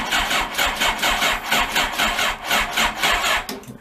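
Suzuki Thunderace motorcycle engine cranking over and over without catching, a steady rhythmic churn of starter pulses running for several seconds, loud and close with no voices.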